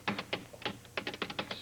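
Quick bursts of key taps on a computer keyboard, irregular clusters of crisp clicks close up with short pauses between them, no voices.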